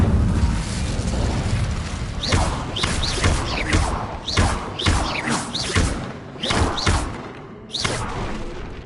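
An Incendio fire spell in Hogwarts Legacy is cast over and over, a run of loud thudding whooshes and bursts in uneven rhythm over a constant rumbling bed.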